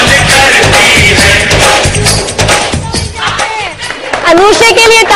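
Studio audience on a Pakistani morning television show claps and cheers for Anusha, loud and crowded, with voices mixed into the noise throughout.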